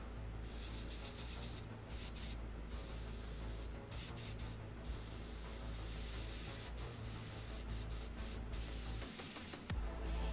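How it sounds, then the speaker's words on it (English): Paint being sprayed onto a Hasegawa Ma.K / SF3D Camel scale model with somewhat thick paint, a steady close hiss of airbrush spray that keeps running, with short gaps where the spray briefly pauses. "It is a bit thicker, so it's not spraying as easily, but it's doing the work."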